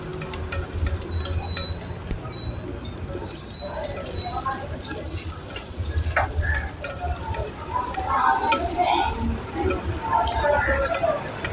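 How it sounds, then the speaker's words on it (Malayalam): Chillies fry and sizzle in a pan for sambar while being stirred, a constant close hiss with scattered crackles and spatters that swell toward the end, no speech. "അപ്പോൾ മുളക് ഇട്ട് കഴിഞ്ഞിരിക്കുകയാണ്. ഇനി ഒന്ന് ഇളക്കി കൊടുക്കാം."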